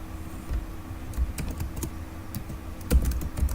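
Code typed on a computer keyboard in Notepad, a close, continuous patter of key clicks with a few heavier keystrokes, and no speech.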